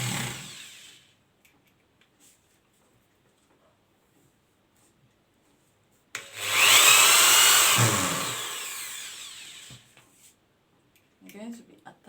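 A power drill drives a screw through plywood into a tyre, one close, loud whirring burst of about two seconds, with a person talking before and after.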